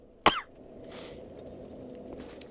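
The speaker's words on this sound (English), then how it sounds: "Coughing." A single sharp cough sounds close by and clear, followed by a faint soft rustle and low background hum.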